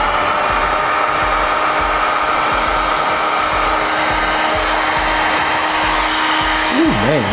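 A heat gun blows a continuous loud whooshing roar while heating the edge of an iPhone 6 Plus skin, running steadily throughout, with a brief wavering sound near the end.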